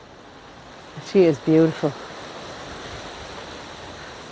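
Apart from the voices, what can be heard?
wind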